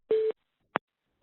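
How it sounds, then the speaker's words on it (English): A telephone line rings in with one steady tonal burst of about a quarter second, then a brief click-like pulse after a short gap, close and clear with no talk. "my other line is ringing in"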